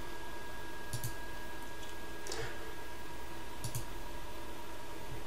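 A computer mouse gives a few faint, widely spaced clicks during Kepware software setup, over a steady background hiss and hum.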